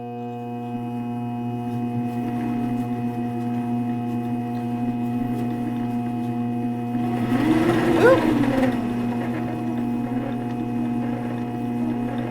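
A commercial 7-quart stand mixer runs with a steady, moderately loud motor hum, then strains briefly as its load shifts, before settling back to an even whir.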